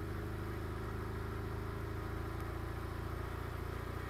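A BMW F800R motorcycle being ridden, its engine holding a steady, even drone with a continuous rumble and no clear rise or fall.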